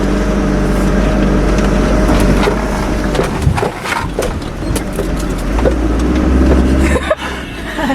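A GAZ Sobol NN 4x4 van drives in four-wheel-drive high range through a rural village. A loud, steady engine and road rumble runs throughout, with rattles and knocks, and no one speaks.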